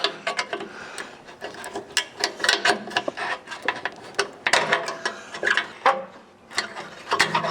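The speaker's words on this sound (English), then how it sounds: "I'm going to go ahead and use a pry tool" Sharp plastic clicks and snaps from a pry tool working wiring push tabs loose on a Jeep JL Wrangler front bumper, arriving as irregular close taps and pops in quick bursts with short pauses, no talking.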